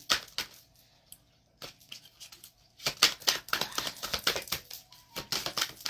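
Tarot cards are shuffled and handled in rapid papery flutters and snaps, close to the microphone, with a short pause midway before a busier burst of riffling.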